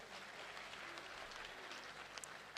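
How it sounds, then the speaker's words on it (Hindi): An audience claps at a poetry recital, a continuous faint patter of many hands with a few sharper claps standing out near the end. "एक बार आप ताली बजा करके मुझे माहौल दें।"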